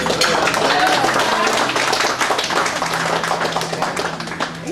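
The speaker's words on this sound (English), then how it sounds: "You give my dad a round of applause." Applause and cheering from wedding guests for the bride's father, a steady wash of clapping with voices mixed in throughout.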